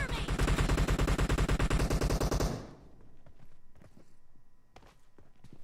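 Rapid automatic gunfire from a PUBG Mobile team deathmatch rattles loud and close in a steady burst for a couple of seconds, then stops, leaving fainter distant shots, footsteps and game sounds.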